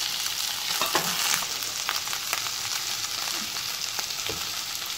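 Roughly chopped tomatoes frying with onion, ginger and garlic for masala matar paneer, a continuous close sizzle with occasional soft stirring knocks, no speech.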